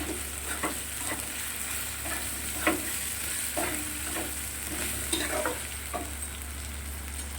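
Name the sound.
soybean, potato and onion frying with ginger-cumin-chili paste, stirred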